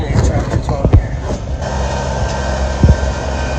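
A tractor drives up a driveway at an off-grid construction site, a steady low engine rumble holding throughout with a few knocks and clunks over it, fairly close and loud.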